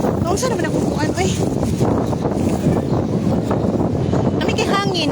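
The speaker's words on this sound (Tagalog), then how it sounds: "Nami kay hangin." Strong outdoor wind buffets the microphone in a constant roaring rush, with voices chatting over the gusts.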